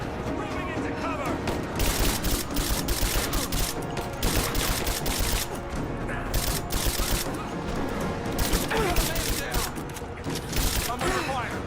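Dense, continuous gunfire in Rise of the Tomb Raider, rapid overlapping shots and crackling bursts with occasional heavier booms, steady and loud throughout, with voices speaking over the firefight.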